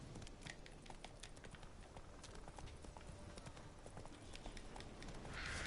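Horse hooves clip-clop steadily in The Witcher 3 as the horse walks along a path, a regular rhythm in front of soft ambient game sound, with no talk.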